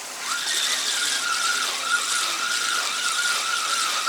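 A fishing reel's drag squeals in one continuous, wavering high whine as line is pulled out while a fish is reeled in on an autumn fishing trip. It is loud and close, with no talking.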